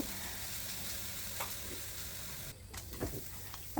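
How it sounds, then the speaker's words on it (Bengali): Onion, garlic and coriander leaves fry in hot oil with a steady, faint sizzle, broken by a few soft clinks and a brief stir near the end. "কিছু পেঁয়াজ রসুন ধনে পাতাকে তেলে নিতেছি"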